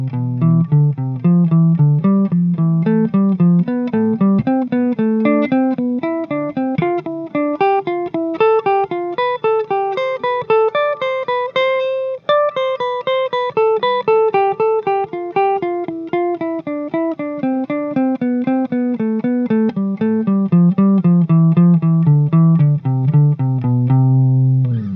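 A clean, sustained instrument runs a scale up and then back down, each step led by the two notes below it, in a continuous, even stream of close, loud notes with no speech.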